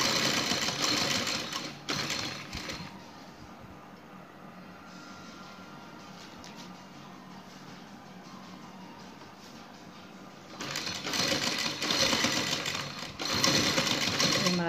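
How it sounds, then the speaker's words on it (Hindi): A sewing machine stitching trouser fabric, running in a fast, steady mechanical whir, loud at the start and end with a quieter stretch in the middle. "इसके ऊपर सिलाई आ जाए रफ स्टिचिंग"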